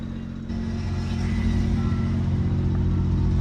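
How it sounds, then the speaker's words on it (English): Flatbed semi truck diesel engine starting up on three batteries and settling into a loud, steady low rumble, close by, with no talking. "We'll see if we can get the truck running on 3 batteries."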